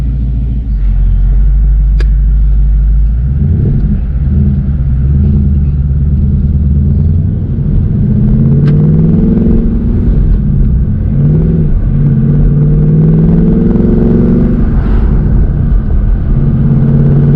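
2016 Ford Mustang GT with a newly installed twin-disc clutch idles with a deep rumble, then pulls away as the engine revs in rising sweeps, loud and close from inside the car.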